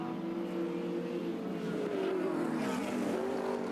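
Touring race cars at the 1983 Surfers Paradise race, engines roaring at full effort as a car is worked hard, with a steady rising and falling drone of revving, moderately close.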